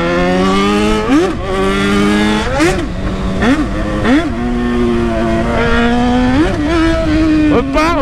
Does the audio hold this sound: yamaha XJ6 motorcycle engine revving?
yes